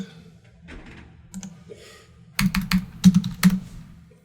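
Typing on a computer keyboard nearby: a few scattered light taps, then a quick burst of crisp, loud keystrokes in an irregular rhythm, with no talk over it.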